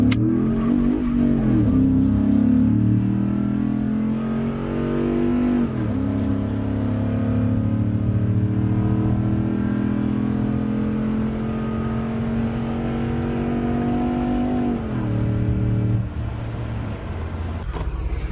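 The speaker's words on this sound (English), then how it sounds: "pulling onto the highway in a 2011 Ford Raptor 5-star 93 tune" A 2011 Ford Raptor with a 93 tune accelerates hard onto a highway, its loud engine roaring steadily and climbing through gears with brief dips at shifts, heard from inside the truck.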